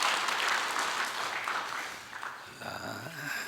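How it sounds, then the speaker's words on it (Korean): Church congregation clapping together at a dawn prayer service, a dense broadband wash of applause that fades toward the end as scattered voices and a sung or spoken tone emerge. "여러분 박수 한번 해주세요"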